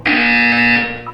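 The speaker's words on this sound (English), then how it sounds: "You will hear a buzzer." A Portal 2 buzzer sounds once, a loud steady harsh electronic tone held for about a second before cutting off, heard alone.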